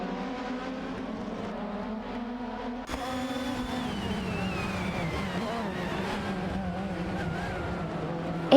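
Race cars in an AI racing game, a steady engine drone with rising and falling revs as cars run through turns and straights, continuous and moderately loud.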